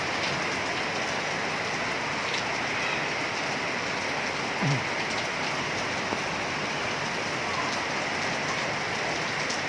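Heavy rain mixed with hail pours steadily, a dense continuous hiss of drops on surfaces, fairly distant and unbroken throughout.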